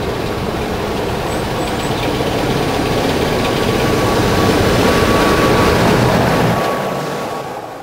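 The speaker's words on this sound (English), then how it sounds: "We're going to travel by Class 25 diesel on this occasion" A Class 25 diesel locomotive runs steadily on a heritage railway line, its engine giving a loud, continuous low drone with a faint whine, holding level before easing off near the end.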